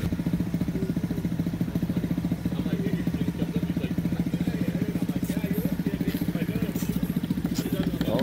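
A 2019 Aprilia RSV4 1100 Factory motorcycle engine idles steadily up close with a fast, even throb and a light mechanical clatter, with faint background noise.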